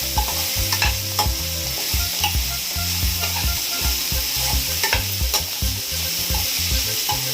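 Ingredients sizzle in a hot pan while being stir-fried for red fried rice, a constant close frying hiss with repeated scraping, tapping strokes of a spatula.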